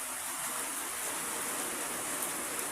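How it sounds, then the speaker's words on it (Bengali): A torrential downpour drums outside a small shop near a school in Sonargaon, one unbroken wash of rain that is loud and even throughout, with no speech. "দেখেন প্রচণ্ড বৃষ্টি"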